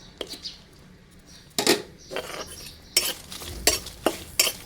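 Chilies and shallots being dry-roasted in a pan for Thai tom yum with chicken feet, heard as scattered stirring scrapes and clinks of a utensil against the pan, close and intermittent, with faint sizzling.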